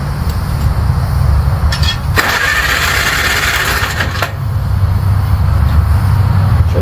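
Engine of a 1952 Farmall Cub tractor cranking on a bottle-fed fuel supply, a loud steady mechanical churn with a brief burst of hissing noise in the middle, close by and without talk.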